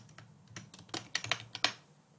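Quick, close bursts of key clicks as code is typed on a computer keyboard, a short irregular run of taps rising to a few louder strokes before stopping.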